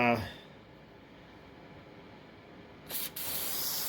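A short spray of lubricant onto a stuck winch roller on a Suzuki Eiger ATV bursts out near the end, a hissing aerosol release lasting about a second after a quiet stretch.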